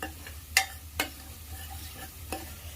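Coriander seeds, sesame and cumin masala frying with turmeric for stuffed brinjal curry, a soft steady sizzle broken by a few sharp spoon knocks against the pan, close and quiet.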